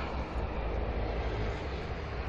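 An airplane at Stavanger airport in Norway, a steady broad engine roar with deep rumble, continuous and fairly loud throughout the short stretch.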